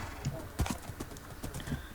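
Horse hooves clip-clop in a video game, several quick uneven footfalls close by over about two seconds, with a faint whinny in the background and no one speaking.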